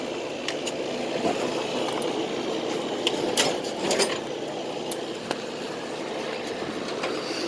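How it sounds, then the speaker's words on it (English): A 1986 Hotpoint Port-a-Cool portable air conditioner with its compressor running, a steady mechanical hum and rattle held constant throughout, with a few light clicks and knocks on top. "So there it goes. Compressor runs. It doesn't sound bad."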